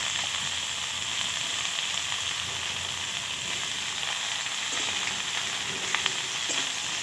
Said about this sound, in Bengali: এর ওপরে আমরা এখন কেটে রাখা ধুন্দুলিগুলো দিয়ে দিচ্ছি।